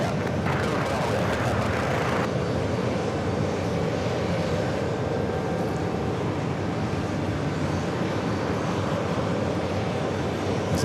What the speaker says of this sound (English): Next up, Bravo, Delta Airlines Flight 157. It's an A330.